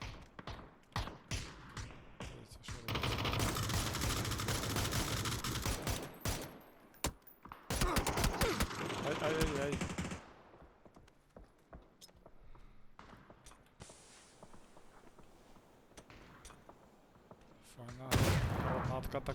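Bursts of rapid gunfire from PUBG crackle in long dense volleys, broken by quieter stretches with scattered shots and thumps.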